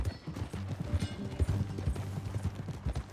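Horse hooves clip-clopping in Red Dead Redemption II, a steady rhythmic run of hoofbeats close by with low game background sound and no talk.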